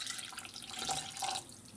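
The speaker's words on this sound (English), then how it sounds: "Now this is the art supper, and I'm going to go ahead and add the water to that." Water pours into a pot of Swedish pea soup mix, a steady splashing trickle that runs for under two seconds with no talking.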